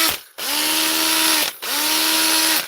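An old electric drill that sounds slightly rough whirs loudly in two bursts, each spinning up, holding a steady high-pitched whine, then cutting off abruptly.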